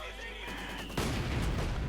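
Mortar fire in the video game Company of Heroes 2, a sudden loud blast cutting in partway through and rumbling on with scattered crackling explosions after a quieter stretch of tones.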